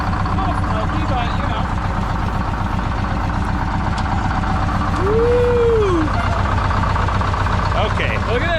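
An old 1967 Silver Eagle bus engine, running smoky, idles with a steady low diesel rumble and close voices talking over it.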